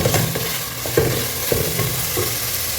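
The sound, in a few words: mutton frying and being stirred in butter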